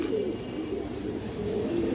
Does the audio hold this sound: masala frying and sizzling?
no